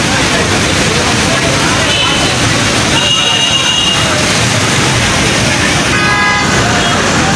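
Car horns toot repeatedly over a dense traffic jam on a flooded Karachi street near Guru Mandir, with a steady roar of idling engines and people talking throughout.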